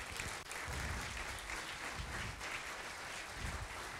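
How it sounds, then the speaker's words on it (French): Sustained audience applause at the opening of a French event, a dense, steady wash of many hands clapping throughout with no pauses. "on peut les applaudir parce que c'est un bel événement"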